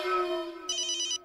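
Mobile phone ringing nearby, a short electronic ringtone with a sustained melodic tone followed by a rapid trilling bell-like burst, brief and fairly quiet with no talk over it.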